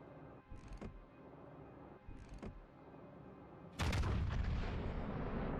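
Warship guns firing in a naval video game: two booming shots with echoing tails, followed by a heavier, louder blast that rumbles on, all over a low ambient game drone.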